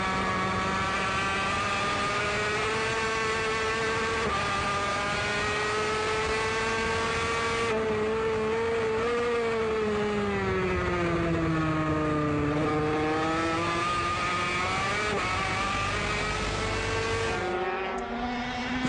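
An Aprilia MotoGP race bike powers out of turn 11 at the Indonesian round, its engine note climbing and shifting through gears in a loud, sustained high-pitched howl with no talking.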